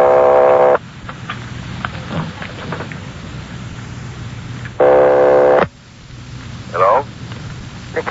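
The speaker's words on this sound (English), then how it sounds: "They're ringing the number, Sergeant." A telephone line ringing in a 1949 Dragnet old-time radio police drama: two long, loud, steady ring bursts spaced a few seconds apart, with background studio noise and brief voice-like sounds between them.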